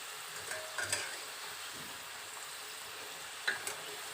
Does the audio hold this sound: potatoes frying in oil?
yes